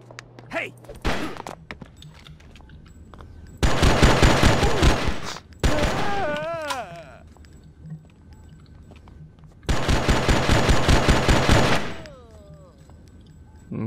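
Bursts of automatic gunfire from the video game Oni come in two long rapid volleys separated by quieter stretches, with crackling impacts and warbling tonal game sounds in between.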